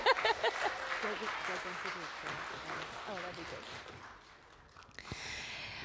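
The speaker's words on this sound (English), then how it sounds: "round of applause for Ine." An audience at the Alaska Just Transition Summit 2024 claps for an elder, with scattered applause building briefly under a speaker's voice, fading low before a sharp tap and a little more noise near the end.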